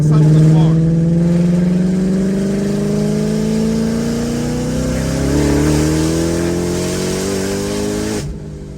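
A Shelby GT500 tuned to about 1,000 horsepower revs hard while driving, its engine note climbing steadily in a loud, continuous roar that cuts off abruptly near the end.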